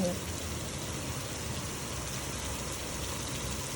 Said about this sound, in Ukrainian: Знову дощик падає. І то такий рясний.